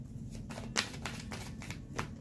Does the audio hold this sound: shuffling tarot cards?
yes